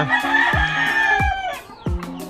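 A Boston Black chicken, yellow-legged and dark-feathered, clucks and calls repeatedly in short, close bursts among farm fowl, with some crowing-like notes and no talking.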